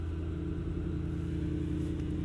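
A Mercedes-AMG GT63 engine idles after starting, a steady low rumble close by and fairly quiet with no revving.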